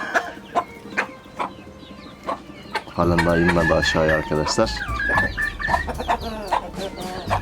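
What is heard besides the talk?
rooster clucking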